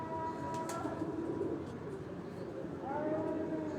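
Pigeons settle on a rooftop while racing birds fly, soft cooing and faint chirps heard at a distance under a steady outdoor hum.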